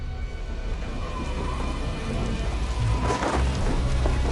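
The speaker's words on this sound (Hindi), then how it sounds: "ये कैसा तूफान आया है?" A storm in a hacker movie: heavy rain pours steadily throughout, and a deep rumble of thunder swells loudly toward the end.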